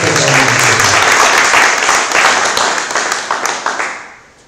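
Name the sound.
church congregation applauding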